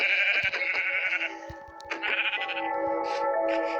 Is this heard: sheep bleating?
yes